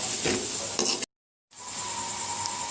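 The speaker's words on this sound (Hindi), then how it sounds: "प्याज को अच्छे से मिक्स करेंगे, इसको अच्छे से मिक्स करेंगे और फिर इनको अच्छे से ब्राउन करेंगे" Sliced onions fry and brown in a hot pan for masala bhindi, giving a steady close hissing sizzle with light stirring scrapes, briefly cut to silence before the sizzle resumes.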